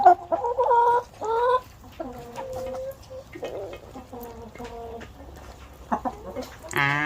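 Ornamental laying hens, including a Columbian Blacktail, cluck and call repeatedly at close range in a series of short, tonal bursts, ending in a louder squawk.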